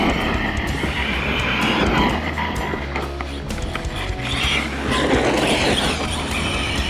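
A Corally Sketer 4S RC basher car drives flat out with a loud, whining motor roar that surges, eases off and surges again, continuous and close.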